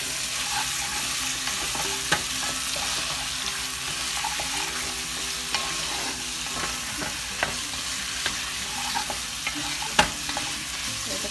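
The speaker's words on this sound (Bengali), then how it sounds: "এটাকে ভালো করে কষানো হচ্ছে। যে অক্টোপাসটা কষানো হচ্ছে," Boiled octopus pieces sautéed in a spicy masala in a pan, a steady close sizzle and frying hiss throughout, with scattered sharp ticks and clinks from stirring.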